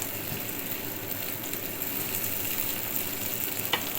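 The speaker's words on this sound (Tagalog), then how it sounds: "Saute lang natin itong carrots." Carrots, onion and garlic sauté in oil left over from frying meatballs, giving a steady, close sizzle and crackle throughout, with a faint scrape of stirring.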